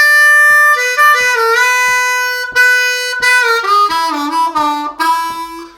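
A blues harmonica plays a lively melodic run of bending notes over the 5 and 4 chords, starting with a long held tone and moving into quicker phrases, loud and clear with no talking.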